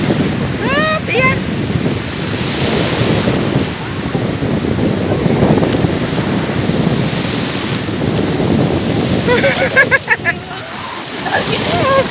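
Sea waves wash onto a beach at a resort where children play in the water, a steady broadband surf roar under wind buffeting, with a voice and brief chirpy sounds near the start and end.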